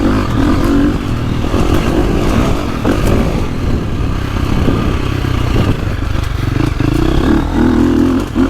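A 2025 KTM 350 XCF dirt bike engine runs loud and close throughout while riding, a steady droning roar with revs rising and falling and some mechanical clatter, no talk over it.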